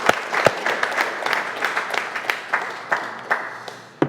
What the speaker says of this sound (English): Give him a round of